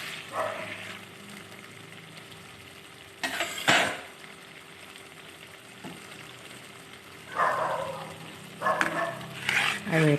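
Greens cooking in a pan with ginger and garlic give a low, steady sizzle, broken by a few louder bursts of scraping and clatter as they are stirred.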